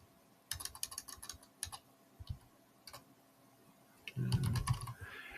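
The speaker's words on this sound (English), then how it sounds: "So first thing I'm going to do is type in my name" Typing on a computer keyboard in short bursts of quick clicks separated by pauses, then a denser, louder flurry of keystrokes near the end, close and without speech.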